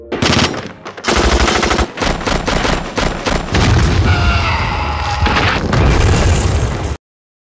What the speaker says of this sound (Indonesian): Para tentara pun segera bersiap di posisi masing-masing, melepaskan tembakan untuk menghabisi para zombie.